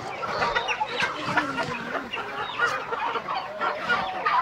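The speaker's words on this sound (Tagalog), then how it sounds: "Daming manok" Many chickens cluck together in a crowded farm pen, a dense continuous chorus of overlapping clucks and squawks at moderate volume with no talk.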